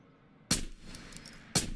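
Two sharp, loud gunshots about a second apart in the video game Ghost of Tabor, each a crisp crack with a short tail, with quiet game ambience between them.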